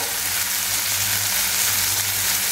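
Two medium chopped tomatoes and salt hit a hot pan for a cauliflower and pea bhaji, giving a loud, even, hissing sizzle that runs unbroken and close, with no one talking.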